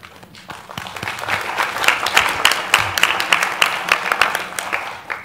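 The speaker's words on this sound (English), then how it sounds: "I don't expect everyone will get a clap" Audience at a 2019 annual general meeting applauding, a steady, loud, close wash of clapping that holds for several seconds and fades slightly at the end.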